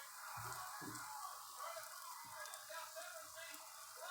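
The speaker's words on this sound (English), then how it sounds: "You want to hear that little sizzle down there?" Steady hissing sizzle of pizza frying in oil in a pan, close up, with a few low muffled thumps and faint voice-like sounds underneath.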